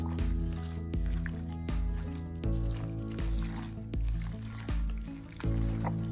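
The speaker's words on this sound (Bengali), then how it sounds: "স্বাদ মতো আমি ভালো করে মাখিয়ে নেব উপর নিচে ভালো করে মাখিয়ে" Raw beef is mixed by hand with salt and spices for kala bhuna, giving soft wet squishing in repeated pulses over steady background music.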